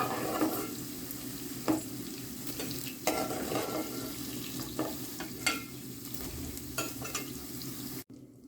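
Potatoes fry in oil for an Andhra-style egg and potato curry, a continuous close sizzle broken by repeated scraping stirs about every second or two, ending abruptly.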